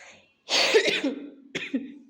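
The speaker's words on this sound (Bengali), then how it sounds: "আমারও কাশি উঠতেছে" A sharp, close cough followed by a second shorter cough after a brief pause, with a slight throaty rasp.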